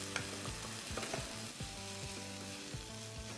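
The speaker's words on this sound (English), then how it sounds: "And now I'm going to add my chopped potatoes" Chopped potatoes stirred into tomatoes frying in a pan for a sandwich filling, a steady close sizzle with soft rhythmic scraping and stirring strokes throughout.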